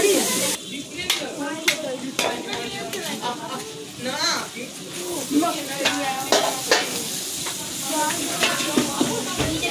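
Onions that have started to stick are stirred as they fry in a pot for a picnic meat dish, a busy sizzle with scraping and clinking utensil strokes, while people talk throughout.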